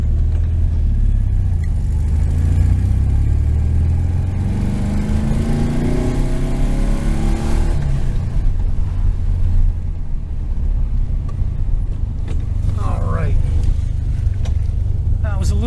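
A 1973 VW Super Beetle engine with a Dellorto FRD 34B carburetor revs while driving, a steady rumbling drone that climbs in pitch for several seconds and then eases off, with road noise throughout.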